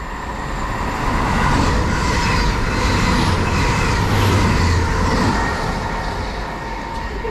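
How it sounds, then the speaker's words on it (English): A Great Western Railway service from London Paddington to Great Malvern roars loudly through a station without stopping, a sustained rush of wheels and carriages swelling and then easing slightly as it passes. "passing through now, we've got a Great Western Railway service to Great Malvern from London Paddington"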